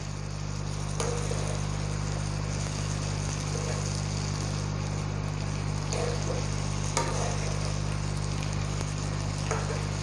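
Purple cabbage simmering uncovered in a pan, a steady close sizzle and crackle with a few louder pops, over a constant low hum.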